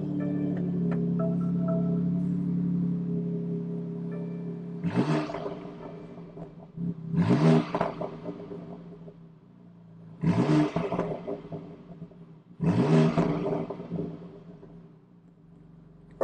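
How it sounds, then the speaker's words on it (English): A 2021 BMW X3 M Competition with the inline-six B58 engine idles, then gives four sharp exhaust revs, each a loud rising roar falling back to a grumbling idle, heard up close with no speech. "not bad grumble for the inline 6 B58 engine. Some nice bubbles, cracks and bangs"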